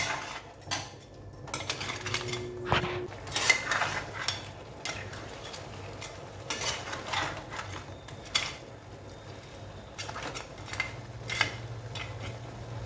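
Crab curry with brinjal is stirred in a cooking pot: a spoon scrapes and clatters against the metal in irregular bursts over a low, steady background hum.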